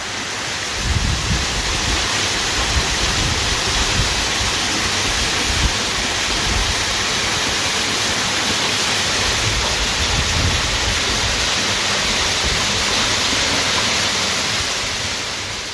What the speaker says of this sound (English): There's the main falls.